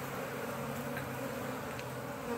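Bees buzz around a peach tree blooming far too early: a soft, continuous, even drone of many insects, fairly faint and with no voices over it.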